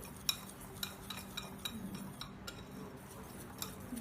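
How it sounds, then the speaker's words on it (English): Dry banana bread ingredients such as flour, baking soda, baking powder and cardamom being whisked in a bowl, a quiet run of quick light metallic clinks and scrapes in an uneven rhythm. "You want to really whisk this well"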